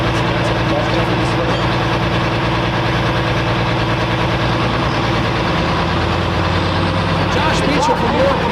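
International Harvester pulling tractor idling at a truck and tractor pull, a loud, steady, deep rumbling engine drone that runs throughout without letting up.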